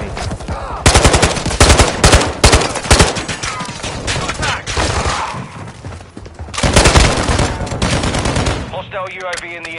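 Rapid bursts of automatic gunfire in a multiplayer shooter, loud clattering volleys that repeat in clusters with short gaps and a brief electronic tone near the end.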